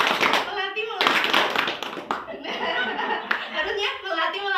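A group plays a clapping game, sharp bursts of hand claps in short rhythmic runs with pauses between, mixed with speaking voices and a little laughter.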